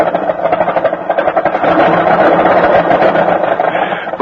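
Car engine bucking and sputtering through a cold winter morning start, a loud rough uneven churning rumble that runs continuously with fluttering surges, close and without talking.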